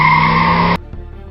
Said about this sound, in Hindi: उसने जोर से अपनी बाइक के ब्रेक लगाए।